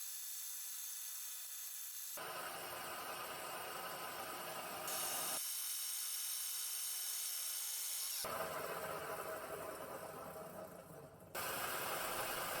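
A drill bit bores into a piece of metal while fabricating a twisting attachment for a rolling mill, giving steady grinding and scraping bursts with brief quiet pauses between runs and no talk.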